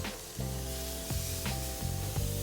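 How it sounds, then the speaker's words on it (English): Chicken sizzles loudly and continuously fat side down on a grill, with a bright crackling hiss, interrupted by a few brief knocks or scrapes. "Listen to this sizzle."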